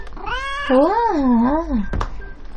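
A single long, wavering cat meow, loud and close, followed by a brief knock-like sound.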